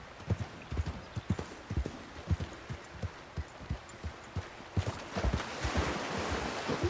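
Horse hooves clip-clop at a steady riding pace in Red Dead Redemption 2, each beat distinct and close, with a rush of water or wind swelling underneath toward the end.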